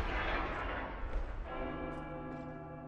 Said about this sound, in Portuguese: A sério, tudo isto para tocar o sino.